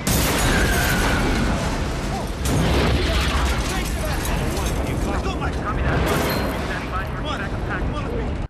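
A movie action scene in which an explosion disrupts a convoy, giving loud, chaotic blasts and crackling debris mixed with gunfire-like bursts, with voices heard over the din.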